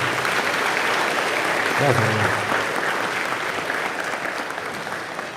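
A church congregation applauds during a Bible teaching session, with steady, dense clapping filling the room and someone briefly speaking over it.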